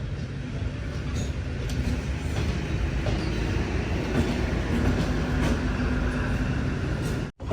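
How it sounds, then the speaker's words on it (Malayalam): A train rolls into Thiruvarur Junction station with a steady rumble and faint wheel clatter on the rails. The sound is continuous and moderately loud, with no voices, and cuts off abruptly at the end. "ട്രെയിൻ ഇതാ തിരുവാരൂർ ജംഗ്ഷൻ സ്റ്റേഷനിലേക്ക് എത്തിക്കൊണ്ടിരിക്കുകയാണ്."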